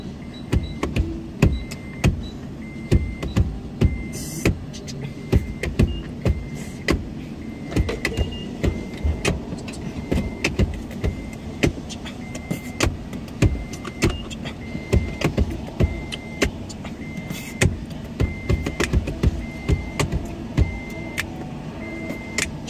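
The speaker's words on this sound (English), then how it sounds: "Quick tutorial on how to beatbox to the car chimer shit thingy." A car's warning chime pings in a steady repeating rhythm, close and clear, with faint interior clicks and no talking.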